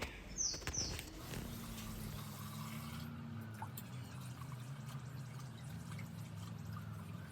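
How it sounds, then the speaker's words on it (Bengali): Water pours and sloshes in a kitchen as rice is washed before going into a rice cooker, a soft, steady wet trickle with a faint hum behind it and no speech. "এখন এই যে চলে আসলাম রান্নাঘরে এসে এই যে ভাতের চাল ধুয়ে দেবো রাইস কুকারে"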